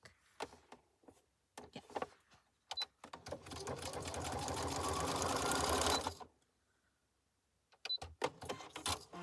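A sewing machine stitching with a normal stitch in a craft project, starting with short bursts and clicks, then running steadily for a few seconds in a loud whirring hum before stopping, followed by more brief stitches.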